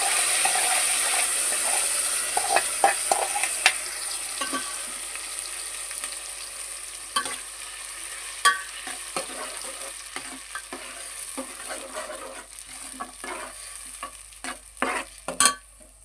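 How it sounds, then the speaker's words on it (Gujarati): Fried chillies in a pan for a cashew paneer dish, with gravy going in: a close, steady frying sizzle with repeated stirring clatters and scrapes, and a sharper burst near the end. "મરચાં તળાઈ ગયા છે અને હવે આ ગ્રેવી નાખી દેવાની છે આમાં."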